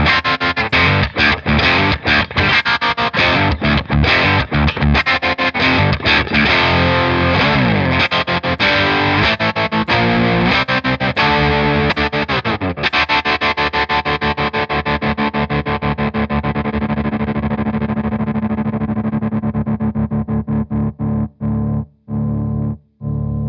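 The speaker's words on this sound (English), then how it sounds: "if you set it to the waveform of square wave and use it as a momentary effect, it's got a really similar sound to a kill switch type effect" Electric guitar run through a Boss TR-2 tremolo pedal set to square wave, the signal chopping on and off in hard rhythmic pulses like a kill switch, loud and close, with choppy gaps near the end.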